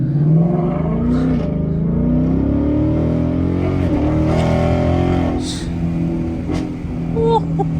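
A Ford Mustang's engine drones steadily from inside the cabin, revving slightly as it drives, with a low, throaty rumble throughout.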